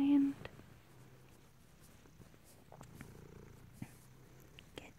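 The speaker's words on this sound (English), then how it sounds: "he's purring" A cat purrs softly and steadily up close at bedtime, a low continuous rumble that goes on under quiet, gentle speech with a few light rustles.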